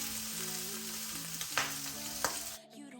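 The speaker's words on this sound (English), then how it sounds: "After my skillet is hot, I'm now gonna go ahead and add my T-bone steak" A T-bone steak searing in a hot skillet gives a continuous hissing sizzle over soft background music, then cuts off abruptly near the end.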